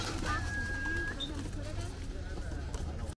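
Pigeons coo at a spring pigeon auction, soft low rolling calls under background chatter, with a thin whistle-like tone early on and a steady crowd murmur throughout.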